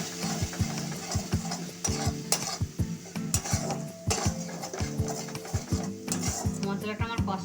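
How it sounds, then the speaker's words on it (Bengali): A spice masala with sugar and a little soy sauce sautéing in a pan for chana paneer, with busy rhythmic scraping and clattering of a spatula against the metal over a constant sizzle, close and fairly loud. "স্বাদ মতো চিনি দিয়ে মশলাটা আমি আরেকটু ভালোভাবে কষে নেব"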